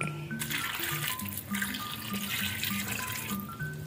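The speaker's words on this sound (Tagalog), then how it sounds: "At lagyan naman natin ang tubig." Water pours steadily into a pan of milkfish being prepared Spanish style, a continuous close splashing stream with soft bubbling, moderately loud and uninterrupted.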